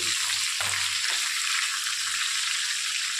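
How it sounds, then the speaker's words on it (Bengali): Chicken pieces frying in a pan until browned, for a simple Bengali chicken dish: a steady, fairly loud hiss of hot oil runs throughout, with a few low clunks near the start. "এরকম প্রত্যেকটা মাংস আমি এইভাবে লাল লাল করে ভেজে তুলে নিই।"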